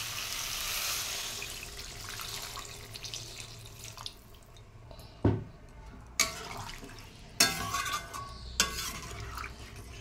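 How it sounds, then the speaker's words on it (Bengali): Water is poured into a pan of frying spiced peas, a rushing splash that settles into a softer simmer, followed by several sharp knocks and clatters of utensils on the pan. "এবার জল দিয়ে দিচ্ছি।"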